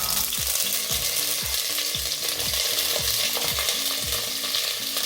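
Celery fries in a pan for bulgur wheat, a steady loud sizzle running throughout with repeated scraping stirs underneath.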